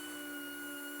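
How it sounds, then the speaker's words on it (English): Power sander working glazing putty on a fiberglass boat hull, a steady high-pitched whine with constant tonal hum running unbroken throughout, fairly close and alone. "And there's an awful lot of sanding to be done."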